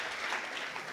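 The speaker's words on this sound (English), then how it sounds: "Let's give Doug a nice round of applause, ladies and gentlemen, for that beautiful toast and speech." Wedding guests clap together after a toast at a reception, a brief, steady burst of dense applause filling the room at moderate level.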